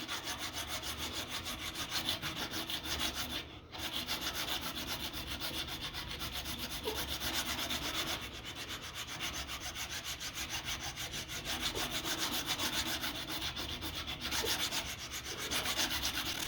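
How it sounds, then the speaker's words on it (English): Steady, continuous abrasive rubbing of sandpaper against a wooden whittle knife blade, close up and even in level throughout, with a brief pause near the start and no talking. "Still sanding."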